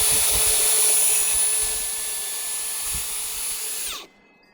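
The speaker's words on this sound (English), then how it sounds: "And I've got my hilariously long drill bit here." A power drill with an extra-long bit bores through a house wall during a mini split installation, a loud steady high whine running for about four seconds before cutting off abruptly.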